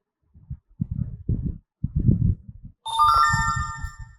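A phone sounds a push notification chime from Firebase, a bright ringtone-like melody arriving after several soft taps or clicks and ringing on to the end.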